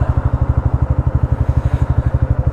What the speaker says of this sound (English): I decided I should probably get out on the bike.